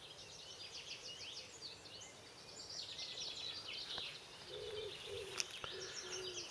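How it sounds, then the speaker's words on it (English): Birdsong fills a spring cottage garden: a busy chorus of chirps and trills at moderate distance, with a wood pigeon's low cooing joining near the end, steady and unhurried with no voices. "The birds are singing,"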